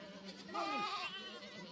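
Goats bleat in a short, wavering cry that rises and falls, close and fairly clear over a faint farmyard background.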